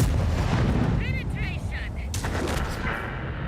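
Artillery fire in the World of Tanks video game sounds as a dense, continuous rumble of heavy booms and blasts, with a few brief whistling tones layered over the steady roar and no clear speech.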